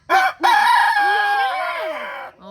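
A rooster crows loudly and close by as chickens are let out of their coop in the morning, one long drawn-out call following a short opening note, with no talk over it.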